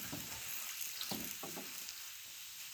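Chicken frying on a clay roof tile set over a campfire in a forest camp, giving a steady close sizzle with a few louder crackling bursts and no talking.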